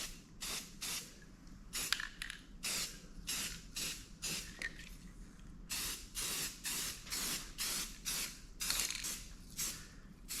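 Spray can laying a base coat of paint on a rifle, heard as a series of short and longer hissing bursts in steady rhythm over about ten seconds, close and fairly quiet.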